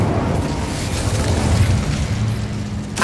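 A fire spell cast in Hogwarts Legacy, a steady roaring whoosh of flame with low rumble that holds for about three seconds, loud and close, ending in a sharp bright burst.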